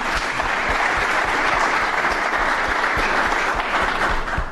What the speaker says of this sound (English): I think we should give them a clap because they do so much for us